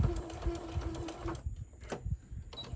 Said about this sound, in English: Okay, I'm going to back stitch right there.